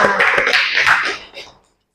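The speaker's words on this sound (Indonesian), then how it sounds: "Tepuk tangan dulu dong untuk Anissa yang sudah menjawabnya benar" Classroom applause for a student who answered a question correctly, a short burst of clapping that fades out within about a second and a half.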